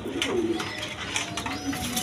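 Two female pigeons, one of them a Rajgolla hen, coo steadily at close range. Faint chirps and background bustle fill the space between the calls.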